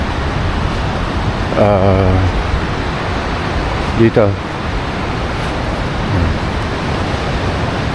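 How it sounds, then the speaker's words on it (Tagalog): Surf washes steadily onto the beach at North Beach Camp in Pagudpud, a continuous broadband roar of breaking waves filling the background while a voice speaks briefly over it. "naririnig niyo yung hampas ng alon ng dagat"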